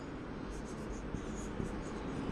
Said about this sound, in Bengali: আমি একটু লিখে দিচ্ছি